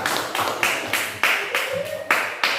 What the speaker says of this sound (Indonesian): berikan tepuk tangan untuk Laura